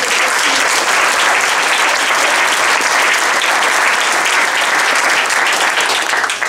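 An outdoor crowd at a gun safety sit-in breaks into loud, dense, continuous applause that holds at full strength throughout.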